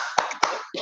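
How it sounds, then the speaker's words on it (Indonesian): Hands clap sharply three times in time with a classroom clapping song, close and crisp, each clap a single quick smack. "Bila kau suka hati tepuk tangan"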